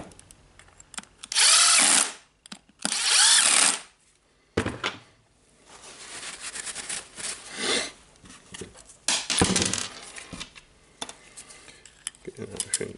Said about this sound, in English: Now I will finish it with my drill.